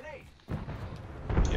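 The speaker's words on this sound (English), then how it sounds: "Look out, grenade!" A grenade goes off in the Apex Legends video game as a sudden, heavy booming blast with a rumbling tail and a second surge near the end, alongside game audio.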